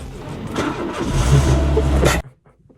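A car engine cranks and catches, then runs loud and steady for a couple of seconds before cutting off abruptly into near silence.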